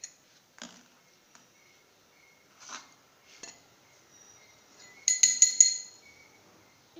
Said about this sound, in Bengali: একটা বাটিতে আমি এখন একটু একটু করে সব পেস্ট নিব